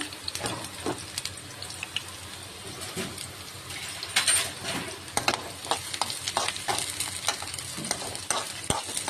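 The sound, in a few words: food frying in a pan while making egg curry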